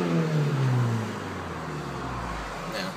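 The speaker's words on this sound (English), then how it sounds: "Listen to what we have to work with here." Mitsubishi Eclipse engine revs, the pitch sliding downward as the engine falls back from a rev into a low idle drone, fairly quiet.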